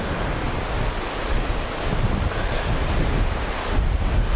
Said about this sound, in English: that wind, we're going back, is gonna blow so bad